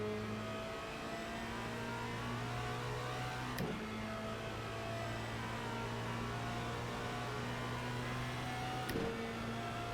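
A Formula Renault 2 race car engine in the iRacing sim drones steadily at high revs along a straight, with two brief sharp shifts or blips breaking the constant tone, moderately quiet and with no talk.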